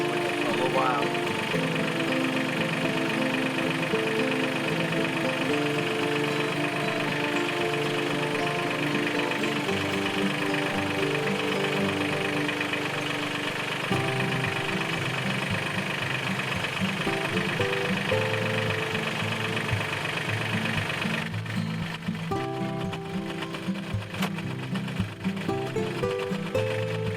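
A Mahindra 1600 farm tractor with backhoe and bucket attachments idles steadily nearby, a low continuous engine drone holding through the whole stretch with a slight change in tone near the end.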